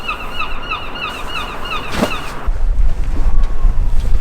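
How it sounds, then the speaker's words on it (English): Strong, gusty wind on a sailboat on a cold, choppy UK sea, a roaring rush buffeting the microphone, with a rhythmic chirping rattle early on and heavier low rumbling gusts building toward the end. "I am taking shelter from the wind because it's bloody windy and cold and choppy"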